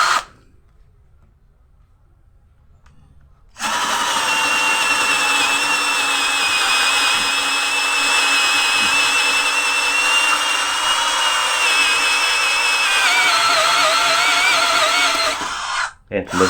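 A Morris 16.8V cordless brushed drill runs at speed 1, boring through wood with a loud, steady, close whine that starts after a few seconds of quiet and holds for about twelve seconds before cutting off.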